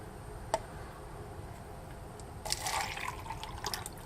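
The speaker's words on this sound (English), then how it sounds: "we're going to add water into the cup and reweigh" Water is poured into a cup on a lab balance, a soft trickle that starts halfway through and continues faintly with small splashes over a quiet background hum.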